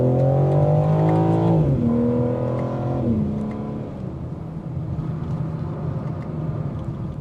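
A 2026 BMW M4 Competition Convertible accelerates, its engine note climbing through gears with audible shift drops, then settling into a steady, quieter driving rumble with road noise.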